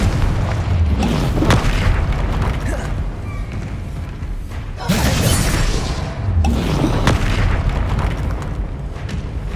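Spell blasts in the Hogwarts Legacy video game, including the Confringo explosion, boom repeatedly in loud, dense bursts with crackling debris, one after another over a constant din.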